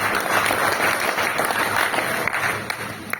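An audience at a speech event in Rajgir, Bihar claps in sustained applause, a dense even patter of many hands that tapers slightly toward the end.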